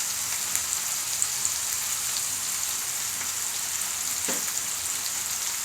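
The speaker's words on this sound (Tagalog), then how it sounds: "Haluin po natin." Eggplant omelette (tortang talong) with black pepper sizzles steadily in a frying pan, with a soft continuous crackle and a brief stirring scrape near the end; no talking.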